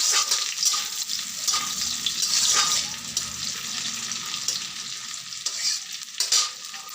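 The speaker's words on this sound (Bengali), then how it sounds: "আমি ডালটা ফোড়ন দিয়ে দেবো তেজপাতা মুসুর ডাল যেহেতু তাই পেঁয়াজ দিয়ে দিচ্ছি" Bay leaf and onion sizzle in hot oil as a tempering for red lentil dal, a steady close frying hiss with occasional stirring scrapes and no talk.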